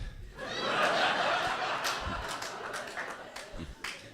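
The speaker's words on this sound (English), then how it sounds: "A lot of boys clapping in the room there." Comedy club audience at the Backyard Comedy Club clapping and laughing together, a dense steady spatter of hands mixed with chuckles and snickers that swells early and slowly tapers over a few seconds.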